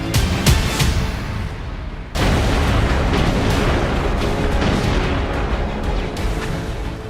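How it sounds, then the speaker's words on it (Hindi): Artillery shelling thunders as a series of heavy booming explosions. Several sharp blasts strike in the first two seconds, then a sudden louder detonation at about two seconds opens into a dense, continuous rumble of shellfire. "हिंदुस्तान और पाकिस्तान दोनों की तोपें पिंपल 2 पर बरस रही थी"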